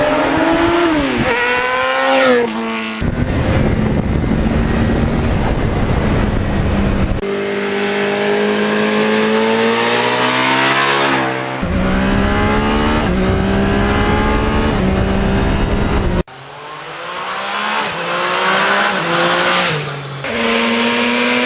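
A 1977 Yamaha RD400 two-stroke motorcycle engine runs loud and close, revving up and down in buzzing, rising and falling sweeps across several abrupt cuts.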